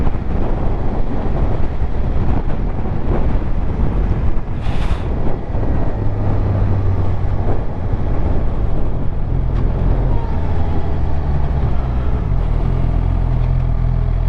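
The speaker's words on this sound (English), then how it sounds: "So windy. It's pushing the underneath of the bike. Really windy." Strong wind buffeting a motorcycle microphone on a ride, a loud continuous roaring rush with gusty swells and a low engine rumble beneath, no talking.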